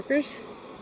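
Honeybee workers buzzing in an opened hive on frames painted with wax, a brief close buzz swelling for a moment then settling into a softer steady hum.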